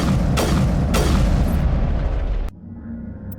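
A loud, heavy explosion from a geth transmitter being destroyed in Mass Effect Legendary Edition rumbles for a couple of seconds, then cuts off sharply to a quieter, low lingering tail.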